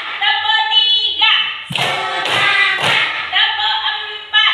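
A classroom of students claps out a rhythmic hand-clapping game, with several loud, sharp bursts of group claps in a pattern, mixed with a sustained high-pitched tone and children's voices.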